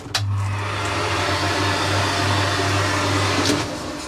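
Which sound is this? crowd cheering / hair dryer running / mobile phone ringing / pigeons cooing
hair dryer running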